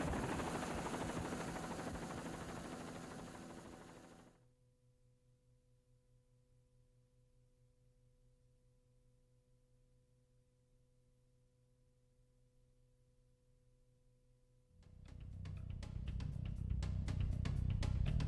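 Loud helicopter rotor and engine noise fills the first few seconds, then drops to a quiet hum before a close, rhythmic rotor thumping returns strongly at the end.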